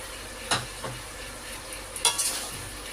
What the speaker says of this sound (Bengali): এখন ভেজে রাখা মাংসগুলো দিয়ে দেব। আমি এর মধ্যে ভেজে রাখা আলুগুলো দিয়ে দেব একসঙ্গে।